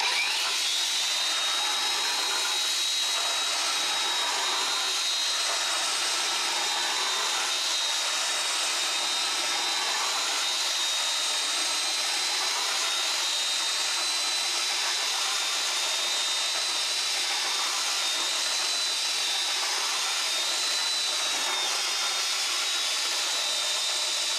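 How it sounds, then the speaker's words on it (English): A power drill boring holes during a water-system installation, running as one long continuous high whine with a steady tone and broadband grind, close and unbroken, no talk. "That concludes the hole drilling."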